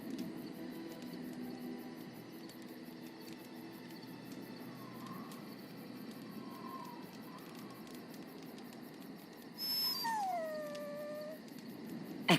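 A dog in the game Dragon Age: Origins gives soft, faint whimpers amid quiet ambient hum, then lets out a sudden, louder rising howl near the end.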